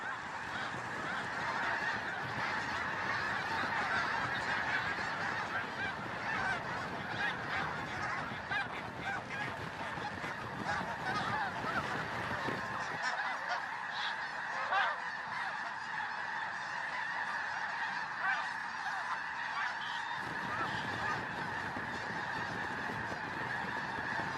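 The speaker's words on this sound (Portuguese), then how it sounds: "Assim que as águias se aproximam, os gansos começam a fugir." A flock of geese honks continuously and loudly as they flee attacking eagles, the calls dense and overlapping throughout with no speech.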